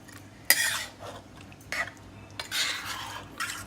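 A spoon clatters against a pot while mutton rara is stirred as it cooks uncovered on low heat, giving several sharp metallic scrapes and knocks in irregular bursts over a quiet background.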